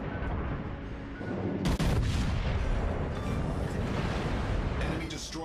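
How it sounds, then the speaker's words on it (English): Naval gunfire from warships in the video game World of Warships Legends, a dense rumbling barrage with a sharp heavy blast near the middle, loud and continuous under faint game voices. "Concentrate fire on the enemy warship."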